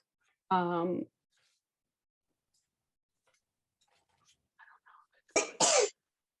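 A single sharp sneeze rings out, followed by quiet clicks and a few brief soft voice sounds before a short spoken reply.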